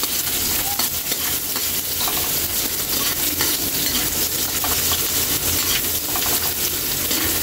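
Garlic and onion sautéing in a pan while being stirred: a dense, loud, continuous sizzle and crackle with faint scraping, close and steady, without talk.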